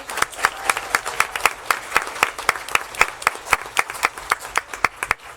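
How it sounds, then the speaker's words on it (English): Audience at a school board meeting claps for district competition-winning students, a steady run of sharp, distinct hand claps from a modest crowd, fairly close and unbroken throughout with no talk over it. "So let's give them a big round of applause."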